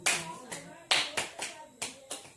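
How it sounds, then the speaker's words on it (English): A small group of children clapping in a classroom, about seven distinct, uneven bursts of claps spread across the moment, close and fairly clear with no talk. "Clap for her."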